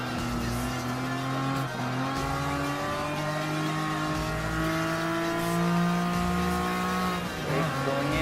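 A TVR Tuscan Speed 6 races in Gran Turismo Sport, its engine note climbing steadily through the gears with brief dips at shifts, loud and continuous alongside faint tire noise.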